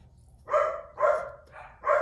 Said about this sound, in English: Those are my dogs barking.